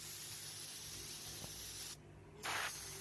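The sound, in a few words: spray painting red paint samples in layers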